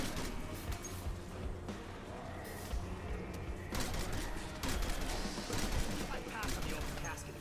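Rapid automatic fire from the War Machine weapon in the Terminus video game, a dense continuous barrage of shots and blasts lasting several seconds amid other game noise.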